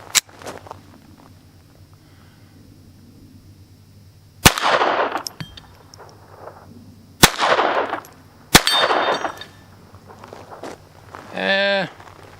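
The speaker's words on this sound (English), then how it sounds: "I'm going to shoot a couple of rounds of Winchester Super X 40 grain" Three sharp, loud pistol shots ring out outdoors from a Walther PPQ firing Winchester Super X 40 grain round-nose rounds at steel plates, spaced a few seconds apart, each with a short echo tail and quiet footsteps between.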